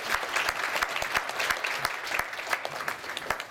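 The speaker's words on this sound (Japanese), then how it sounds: "皆様もう一度拍手をお願いいたします" Steady applause from a lecture audience, many hands clapping at once with sharp individual claps standing out, continuous and fairly close.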